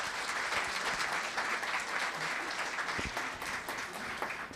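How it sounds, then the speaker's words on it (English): Applause at a Los Gatos town council meeting honoring a retiring public servant, a fairly quiet, steady patter of many hands clapping across the room for several seconds, with a few sharper claps standing out. "Applause, please."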